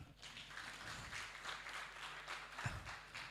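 Quiet audience hand clapping in a hall during a census report launch, a steady, fairly faint wash of applause lasting a few seconds with no talking.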